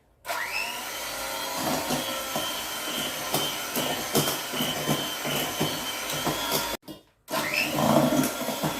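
An electric mixer beats plum cake batter with vanilla sugar and salt, giving a steady loud whirring drone with clattering bumps, briefly cutting out before starting again.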